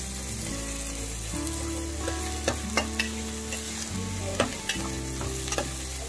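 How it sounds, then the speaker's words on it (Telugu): Finely chopped onions frying with cumin in a pan for a South Indian drumstick masala fry, a soft continuous sizzle under a steady low hum, punctuated by several sharp spoon clinks and scrapes. "ఆనియన్స్ బాగా ఫ్రై అవుతున్నాయి ఫ్రెండ్స్."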